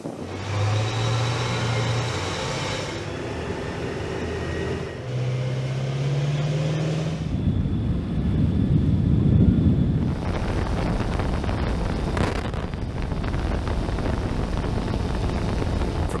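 Marine amphibious assault vehicles (AAVs) moving in an extended line toward the shore, a steady rumbling engine drone with wind buffeting across the microphone and a surging, heavier wash partway through.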